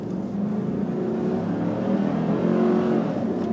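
A Hummer running on bioethanol pulls away from a standstill, its engine droning steadily and building in intensity as it accelerates, loud and close throughout with no talking.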